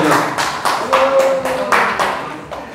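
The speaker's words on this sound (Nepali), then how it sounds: "नीता र हरिहरजीका लागि एकचोटि ताली बजाइदेऊ" Audience clapping at a film event in Kathmandu, a close burst of about eight distinct rhythmic claps, fairly loud, with a faint voice briefly heard underneath.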